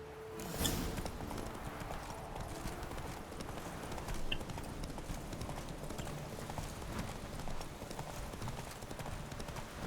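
Roach, Geralt's horse in the video game Witcher 3, gallops in a steady, rapid clip-clop of hooves that stays prominent and near throughout.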